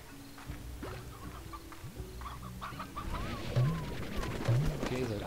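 Chickens cluck in the video game Slime Rancher, a mix of short clucks and rising squawks over game ambience, growing louder and busier toward the end.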